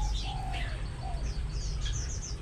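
Collared babblers, a pair kept in an aviary, give soft chirps and whistled calls scattered across a steady low background hum, with no one talking.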